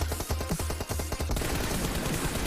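Gunfire in PUBG Mobile, rapid bursts of automatic shots in a fast regular rhythm, then dense overlapping firing, loud and close throughout.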